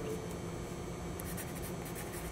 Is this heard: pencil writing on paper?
yes